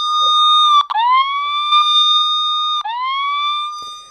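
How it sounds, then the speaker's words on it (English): SOS alarm on an HT30 smartwatch, a loud, piercing electronic siren tone that holds steady, dipping and sweeping back up twice, sounding alone and close. "And also we have this SOS function as well."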